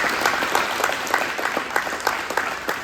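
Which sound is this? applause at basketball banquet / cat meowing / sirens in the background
applause at basketball banquet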